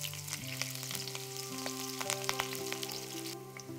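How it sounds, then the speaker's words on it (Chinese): Scallions and garlic sizzle and fry in hot oil in a wok, a steady crackling hiss with small pops and a faint stirring clink, close and alone. "锅里加油，油热下葱蒜爆香"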